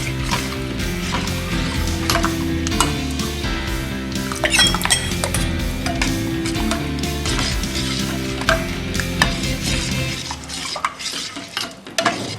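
Onion tambuli, a spiced onion dish, being stirred together with curd or buttermilk in a pot, giving steady scraping and clinking of a spoon against metal with scattered sharp clinks, close and fairly loud with no talking.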